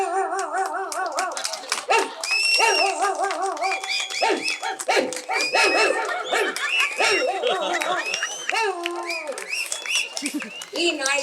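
A mimicry artist vocally imitates a dog, producing a run of barks, whimpers and yelps in quick irregular bursts, close and loud, with a few breaths of other sound between them.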